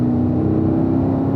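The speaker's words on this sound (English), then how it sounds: "Keep accelerating up to the 1 marker." A car accelerates on a race track, its engine droning steadily and loudly with a constant low hum throughout, close to the listener and with no talk.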